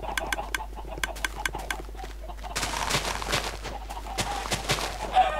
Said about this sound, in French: Là je tue la dernière poule.